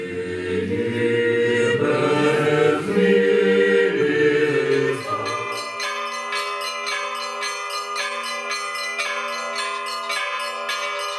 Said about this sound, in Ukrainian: Перед службою на всю округу лунає мелодія церковних дзвонів.